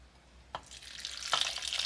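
Filtered Berkey water pours into a pot in a home kitchen, a rising hiss that starts softly and grows steadier after a couple of brief splashes.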